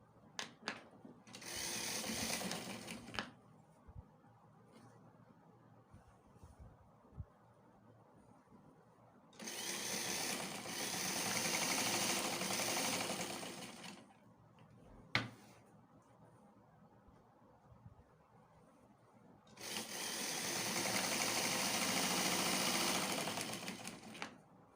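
A sewing machine stitches palazzo trouser pockets in three long, steady whirring runs, separated by quiet pauses with faint handling noises.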